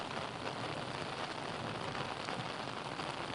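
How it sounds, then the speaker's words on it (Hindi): Heavy rain falls across an area of Delhi, a steady, dense hiss of drops pattering on surfaces, even and unbroken, with no talking. "आप जो तस्वीरें दिखा रहे हैं उसमें तो साफ अंदाजा लगाया जा सकता है कि बारिश काफी तेज है इस पूरे इलाके में"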